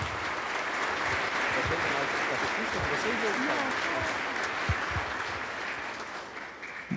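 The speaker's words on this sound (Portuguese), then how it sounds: "Vamos dar uma grande salva de palmas agradecendo ao nosso Bispo por tudo o que faz por nós." A church congregation applauds the bishop during a confirmation Mass, steady dense clapping filling the space for about seven seconds, with occasional sharper claps standing out near the end.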